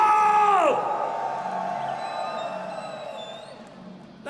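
Crowd at the Wacken Open Air heavy metal festival in 2014 cheering and roaring loudly after a band's shout, a sustained wash of distant yelling and whoops that slowly fades.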